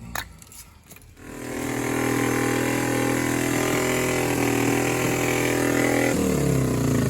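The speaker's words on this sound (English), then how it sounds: "That cylinder's firing now, so we got it" The engine of a 1973 Honda CB350 motorcycle that had a bad plug: a few sputtering cranks and coughs, then it catches and settles into a steady, loud, close running drone with a slight change in pitch near the end.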